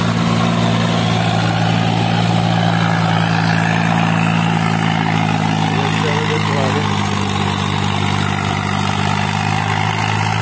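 A John Deere 5050D tractor engine labors under heavy load while pulling a trailer up an incline, a constant loud low droning rumble throughout, with faint voices in the background.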